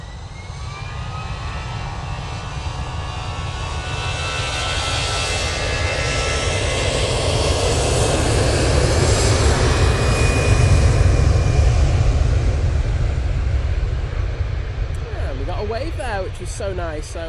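An EasyJet airliner's jet engines at Manchester Airport, a loud, sustained roar that swells toward the middle and stays strong, with a person talking over it near the end.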